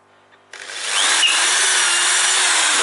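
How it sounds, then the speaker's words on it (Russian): A power drill with a larger bit boring through metal during front suspension control arm bushing replacement on a Chevrolet Lanos, starting after a short quiet moment and then running loud and steady with a high whine. "Взяли еще сверло побольше. И опять проходим."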